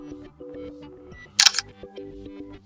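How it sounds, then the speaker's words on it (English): A single crisp camera shutter click from a POCO X3 Pro smartphone, sharp and brief, standing out against a steady background hum. "let's tap the shutter button"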